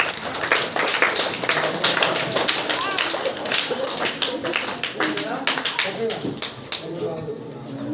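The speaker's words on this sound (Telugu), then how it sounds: "పిల్లలు చప్పట్లు పట్టారు" Children at a primary school parent-teacher meeting clap together in a dense, steady burst of applause that carries on for several seconds, close and fairly loud, with the rhythm thinning slightly toward the end.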